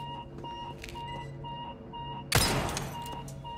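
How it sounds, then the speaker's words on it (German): An alarm in the video game Resident Evil 4 Remake keeps beeping in a steady, evenly spaced pattern at a moderate level, briefly covered by a loud crash or burst of noise near the end. "Kann ich mal diesen scheiß Alarm ausstellen."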